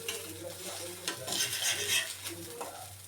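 Aloo tikki potato patties frying on low heat in a pan, a steady close sizzle with faint scraping as they are lifted out, continuous and moderately quiet, no talking.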